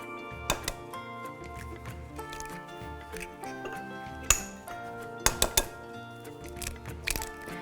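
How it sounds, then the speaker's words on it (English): Eggs are cracked into a bowl of courgette fritter batter, with scattered sharp clicks and taps of shell against the bowl rim and light clinks of kitchenware, close and fairly quiet, with no talking. "And we can crack in our eggs."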